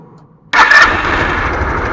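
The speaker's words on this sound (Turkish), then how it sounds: "Şimdi çalıştıracağım motorumuzu." Kanuni Mati 125 fuel-injected motorcycle fires up abruptly after a brief quiet, jumping straight into a loud, steady idle with a rough rumble close by.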